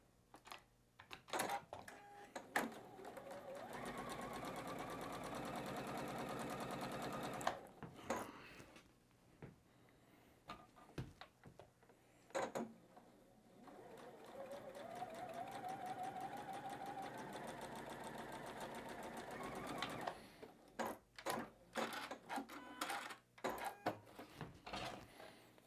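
Sewing machine chain piecing batik quilt block units, running in several steady bursts of stitching separated by brief pauses, clicks and handling noises, close and loud with no talk.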